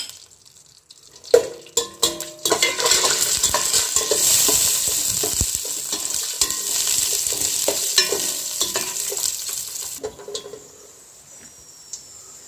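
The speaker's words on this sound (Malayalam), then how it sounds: "നമ്മുടെ നെയ്യ് ചൂടായിട്ടുണ്ട് ഇനി അതിനകത്തേക്ക് നമുക്ക് കുറച്ച് അണ്ടിപ്പരിപ്പും കുറച്ചും കൂടി ഇട്ടൊന്ന് വറുത്തെടുക്കാമേ" Cashew nuts dropped into hot ghee for jackfruit payasam, sudden crackling then a loud, busy sizzle with spoon stirring and pan scrapes that settles and fades toward the end.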